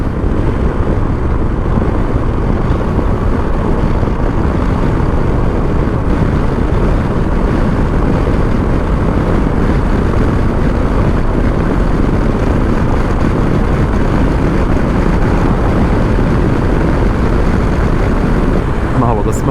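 A Sym Joymax Z 300 scooter cruising at speed on a highway toward Belgrade, heard as a loud, continuous engine and road roar thickly mixed with wind buffeting the microphone.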